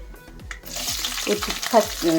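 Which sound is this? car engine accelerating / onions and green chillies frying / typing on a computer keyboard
onions and green chillies frying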